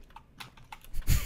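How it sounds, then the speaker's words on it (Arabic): A loud computer keyboard clatters with sharp, quick keystrokes in an uneven rhythm during an Apex Legends gaming session, ending in a louder burst of noise. "صوت الكيبورد بتاعه عالي كده ليه؟"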